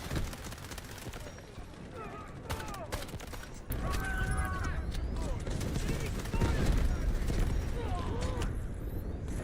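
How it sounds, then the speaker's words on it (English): P90 submachine gun firing in Delta Force, quick bursts of gunfire and scattered game effects in close-quarters combat, loud and continuous. "As you guys just saw, the P90 is a very capable weapon for CQB situations"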